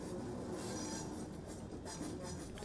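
A London Overground Class 378 electric train in Train Simulator 2018 runs with a steady, dense rumble of wheels and motor noise, holding an even level throughout with faint high rail hiss and no talking.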